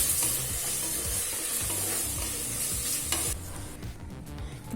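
Tomato sautés in a pan for egg biryani, a steady bright sizzle with repeated scraping stirs of a spoon, close and loud, the frying hiss dropping away sharply near the end while stirring continues.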